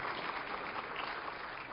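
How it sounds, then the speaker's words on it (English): Steady applause from a lecture audience at a university game theory class, a continuous dense clatter of many hands clapping at even loudness throughout, with no voices over it. "Round of applause for our players, please."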